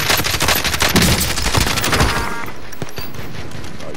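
Rapid automatic gunfire from Call of Duty: Modern Warfare rattles in dense bursts for about two seconds, then drops to scattered single shots and a lingering ambient tail.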